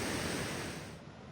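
Waterfalls at Plitvice Lakes in Croatia on a grey winter day give a steady, dense rush of falling water that fills the whole short stretch without any voices.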